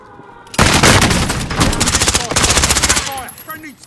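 Heavy rapid gunfire bursts in a first-person shooter match, loud and close, with the player under fire; sustained automatic fire for about two and a half seconds, then tapering off.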